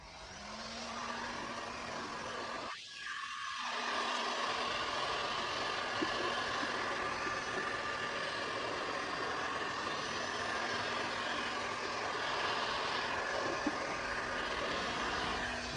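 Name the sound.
heating glue on a controller with a heater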